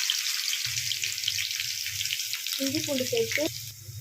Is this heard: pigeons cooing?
no